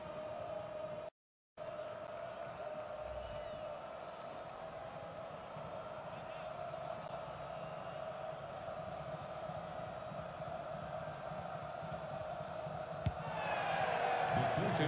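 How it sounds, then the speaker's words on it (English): A large soccer stadium crowd at an MLS match between the San Jose Earthquakes and Seattle Sounders lets out a sustained, distant ooh after a near-miss shot, a broad wash of noise that swells louder toward the end. "Two oohs around the crowd"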